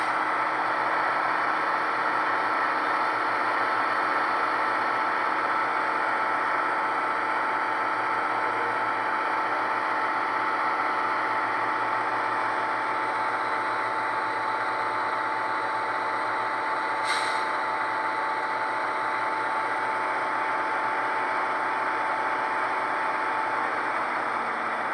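A model locomotive's diesel engine sound, from a Soundtraxx Tsunami 2 sound decoder with Genset II sound, idles with a constant, even rumble and hiss that holds steady throughout, with a brief faint click partway through.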